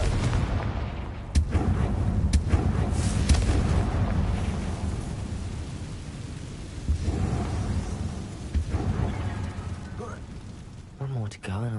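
Repeated Confringo blasting-curse impacts crack and boom in Hogwarts Legacy on PS4, sharp hits over a continuous rolling, thunder-like rumble that swells and eases across the whole stretch, fairly loud and near.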